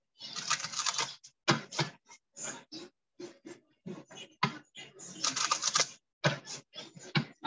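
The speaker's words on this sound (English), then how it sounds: "Two more shuffles." A tarot card deck is shuffled in quick bursts of crisp riffling and tapping, close and fairly quiet, with short pauses between the shuffles and no speech.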